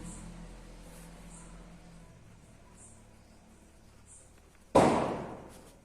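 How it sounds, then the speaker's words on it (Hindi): A single Diwali firecracker set off by children outside bursts with a sharp bang near the end, its echo trailing away after a stretch of quiet ambience. "दिवाली है इसलिए क्या बच्चे पटाखे बुला रहे हैं, तो हो सकता है साउंड सुनाई दे"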